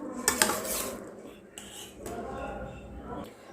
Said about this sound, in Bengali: এবার আমি সয়াবিনগুলোকে ছেঁকে ঠান্ডা জলে দিয়ে দিচ্ছি